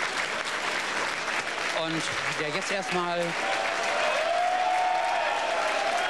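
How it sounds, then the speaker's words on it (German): Applause greets Helmut Kohl arriving at CDU party headquarters on the 1994 German federal election night, steady crowd clapping throughout as a voice speaks over it. "Helmut Kohl, der Mann, der hier mit großem Beifall begrüßt wird"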